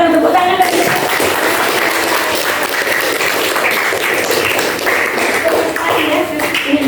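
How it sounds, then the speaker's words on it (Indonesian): A classroom of students claps together in a dense, continuous burst of applause lasting several seconds, with voices mixed in underneath. "Tepuk tangan lagi."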